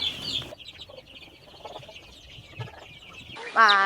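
Six-week-old native Thai chickens raised on a farm, with soft, scattered clucks and peeps at close range and a louder burst of calls near the end, mixed with faint background noise.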